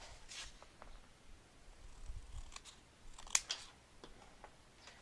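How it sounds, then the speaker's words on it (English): Scissors snip mitered corners on a homemade album, giving a few quiet, scattered cuts close by in a hushed room. "Now I'm going to miter my corners."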